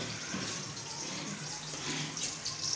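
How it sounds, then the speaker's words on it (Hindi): Water from a glass poured into a cooking pot in a home kitchen, a steady soft splashing rush throughout, fairly quiet and with no talk over it. "अभी पानी डालेंगे"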